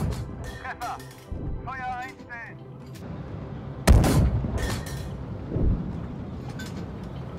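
A BMP-1P's 73mm Grom smoothbore gun fires in the tank game Gunner HEAT PC, one heavy boom cutting in partway through. Someone talks before and after the shot, with a smaller thud following.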